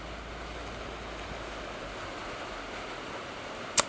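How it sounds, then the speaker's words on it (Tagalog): Heavy rain pours outside, heard from inside a room as a dense, steady broadband hiss with no breaks, ending with a brief faint click. "ang lakas ng ulan"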